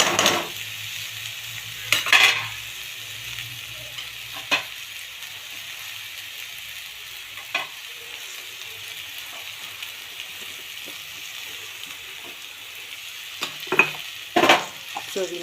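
Chopped ridge gourd fries in a pan with garam masala for a Maharashtrian chutney, a steady soft sizzle under sharp spatula scrapes and clinks from stirring, close and alone.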